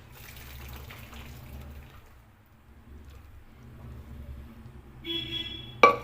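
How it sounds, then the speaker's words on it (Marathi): Faint trickling and dripping of water draining through a strainer, quiet and steady, ending with a brief clatter. "सर्व पाणी निथळेपर्यंत आपण असंच ठेवूया"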